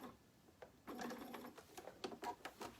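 A machine-embroidery sewing machine stitches binding toward the edge in short, quiet bursts, with a sustained run followed by a few stop-start pulses, close by.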